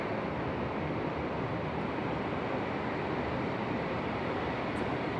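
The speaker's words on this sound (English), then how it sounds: "it's pouring and it's so loud" Dense, steady roar of heavy rain pouring down in Cambodia, a constant broadband wash with no breaks and no voices.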